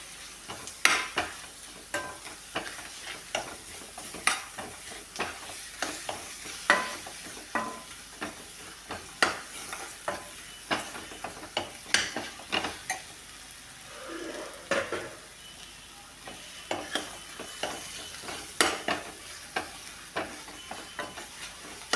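Ripe tomatoes sautéing and being stirred in a pan for a fish curry without coconut, with a steady soft sizzle broken by frequent sharp scrapes and taps of the spoon, close and fairly quiet, no voices.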